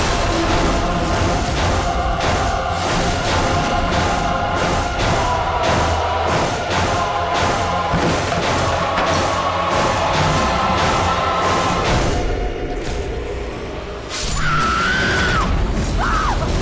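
Glass smashes and crashes in a dramatic TV serial scene, with repeated loud impacts and shattering over a dense, booming music bed, followed by a brief lull and a rising scream.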